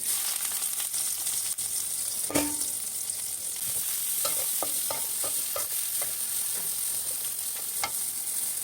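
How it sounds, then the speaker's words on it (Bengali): Onion and torn bay leaves frying in hot oil in a wok, a steady close sizzle with occasional utensil clinks and scraping stirs across it; no talking. "কড়াইয়ে তেল দিয়েছি, তেল গরম হয়ে গেছে। এখন দুটো তেজপাতা ছিঁড়ে দিয়ে দিচ্ছি, পেঁয়াজটা দিয়ে দিচ্ছি।"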